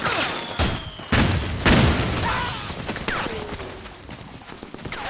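Gunfire in the Metal Gear Solid 4 video game battle, several loud, sharp shots and booming bursts in quick succession, fading into a rattling, echoing background.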